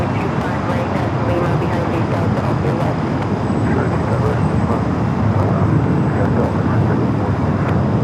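An Airbus A350 airliner taxiing on a taxiway at LAX, its engines a loud, steady roar with a faint high whine, with someone talking over it throughout.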